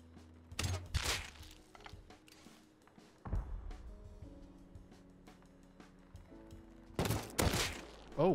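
AK rifle fire during a raid in Rust: short sharp bursts at the start, midway and near the end, with quieter thuds and steady engine-like hum between them.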